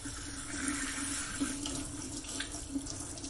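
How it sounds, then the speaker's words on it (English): Tap water runs steadily into a sink during handwashing, a continuous close splashing hiss that holds even throughout with no voices over it. "I need to wash my hands."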